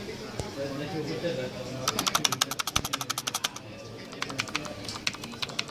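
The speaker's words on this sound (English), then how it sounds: "Let me just quickly show you or let you hear the typing test." Keys clatter in quick runs of crisp, light clicks as someone types on a quiet membrane keyboard in a shop, the bursts pausing briefly before resuming over a low background hum of store noise.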